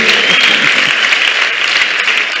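A church congregation at a Foursquare service claps together in loud, dense, continuous applause that holds steady throughout, with a faint voice barely showing beneath it.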